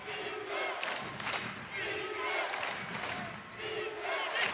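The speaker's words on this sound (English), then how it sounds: "This crowd is imploring defense, defense." A college basketball arena crowd at a Western Kentucky at Louisiana Tech game chants defense in a steady, rhythmic roar of repeated two-beat calls, loud and dense throughout, with a commentator's voice faintly mixed underneath.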